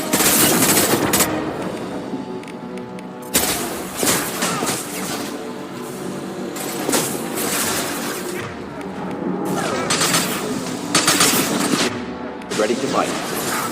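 Incendiary ammo in the Mass Effect 2 video game fires in loud, rapid bursts of automatic gunfire broken by brief pauses, with heavy impacts and booms and voices talking during the shooting.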